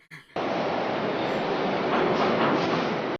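A train in the 1981 film An American Werewolf in London sets off a loud, steady rumbling roar that starts abruptly after a brief sound and holds for about three seconds before cutting off sharply.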